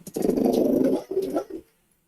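A large Cane Corso dog growls low and rumbling, one long snarl followed by a shorter one, close and loud before it falls silent.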